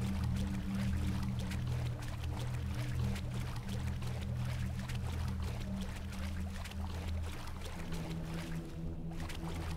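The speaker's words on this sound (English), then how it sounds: "the splashing of these fucking feet is trying to drive me insane" Footsteps splash steadily through shallow water in the dark fantasy game Mortal Shell, a continuous wet sloshing over a low droning game soundscape, with no talking.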